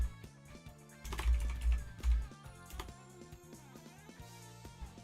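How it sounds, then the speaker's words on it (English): Keys clatter on a computer keyboard as Pokémon stats are entered, a quiet run of quick uneven taps with a denser burst near the start, under faint background music. "I'm typing in stats for this Pokemon right now"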